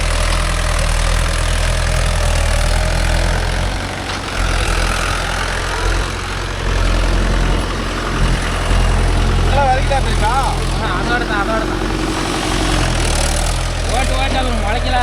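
Mahindra 575 DI tractor engine running steadily with a deep low rumble while pulling a 9-tine cultivator through farmland, continuous and close, with faint voices in the background.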